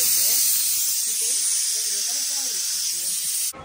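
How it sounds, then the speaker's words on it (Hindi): A pressure cooker whistle blows during cooking, a loud, steady, high hiss of escaping steam that holds close and continuous before cutting off abruptly at the end, with a voice faintly underneath. "और एक सीटी बच चुकी है कुकर में"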